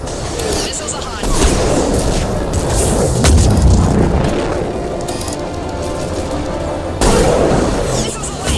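Missile launches and explosions in the video game Mass Effect 3, with loud, sustained booming blasts, a heavier burst near the middle and a fresh surge toward the end, with voices talking under the combat.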